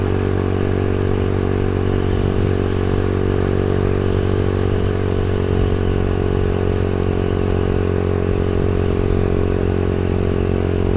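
A Yamaha Xabre 150cc motorcycle engine and exhaust run loud and close at high RPM, a steady, dense, rough drone holding constant throughout with no speech.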